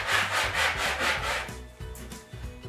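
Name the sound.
sanding wooden safety push sticks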